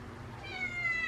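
A single close cat meow, rising and drawn out, heard alone against a quiet background.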